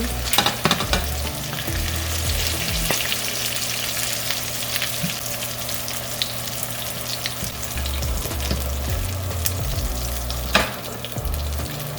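Chicken shashlik pieces fry in hot oil with a loud, continuous close sizzle, while stirring scrapes and clatters irregularly against the pan over a low steady hum.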